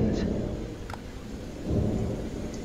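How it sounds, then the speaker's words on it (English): Game thunderstorm in Jurassic Park Operation Genesis: a low continuous rumble of thunder over steady rain, heavy and close, with no voices. "Oh, thunderstorm this time."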